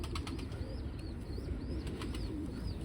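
Pigeons flap their wings in a loft on a cool September day, soft repeated fluttering bursts over a constant low background hum, with faint chirping calls mixed in and no talking.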